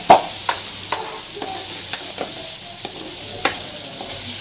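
A spoon stirs and presses softening tomatoes in a pan, giving a steady sizzle punctuated by repeated sharp scraping taps against the metal, close and loud.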